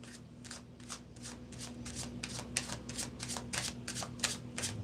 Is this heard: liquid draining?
no